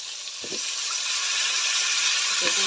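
Vegetables fry in oil on a traditional Bengali clay stove in a village kitchen, a steady bright sizzle that builds slightly over the few seconds, with two faint low knocks of utensils.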